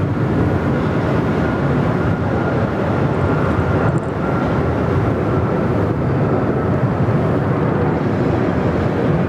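Airliner on its takeoff roll at Sydney Airport, a steady loud broadband jet roar filling the whole stretch without letup, no voices over it.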